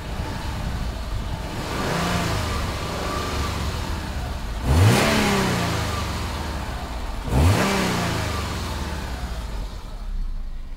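2004 Subaru Legacy engine, warmed up after a cold start, idling as a steady mid-pitched hum and then blipped twice in sharp revs that climb quickly and fall away, each rev distinct and close.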